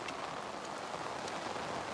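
Heavy rain pouring down over farm fields, a dense, steady hiss of countless drops with no pauses and no voices, close and loud throughout.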